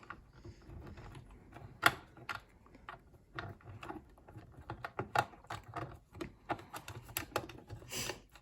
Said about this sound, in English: So I'm going to use the little screwdriver, and I am going to remove the needle plate.